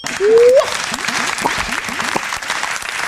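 Canned applause sound effect played on a talk radio show, a burst of clapping that runs to the end, with a voice speaking over the start.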